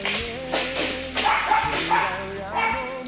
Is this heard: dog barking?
yes